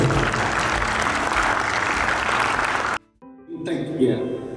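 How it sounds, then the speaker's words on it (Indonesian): Audience clapping at an Indonesian disaster emergency command training session, a steady, dense applause for about three seconds that cuts off abruptly, followed by a brief silence and then a burst of room noise and voices. "tepuk tangan untuk Prof. Samsul."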